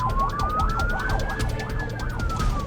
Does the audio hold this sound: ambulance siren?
yes